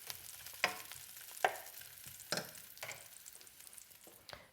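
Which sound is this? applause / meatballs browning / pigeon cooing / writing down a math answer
meatballs browning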